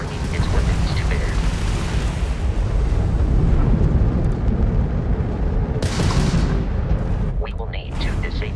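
Enemy Crimson Fleet ship weapons fire in the space combat game Starfield, heard as heavy rumbling booms and bursts with sharp blasts near the end, under a voice talking.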